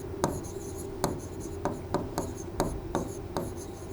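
Marker or chalk strokes on a classroom board during a geography lesson, a steady series of short scraping writing strokes in a close, regular rhythm.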